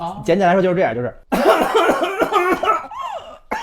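A doctor imitates a child's whooping cough with spasmodic bursts of coughing and a rising whoop-like intake of breath, close and loud, mixed with talking.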